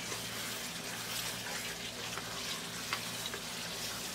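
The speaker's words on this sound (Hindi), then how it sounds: "अब फ्लेम को हम हाई करेंगे। अब इसके अंदर मटन शामिल करेंगे। मटन की अच्छी तरह से भुनाई करेंगे।" Mutton frying in a pot over a high flame gives a steady, close sizzle and crackle with faint stirring scrapes, running continuously without talk.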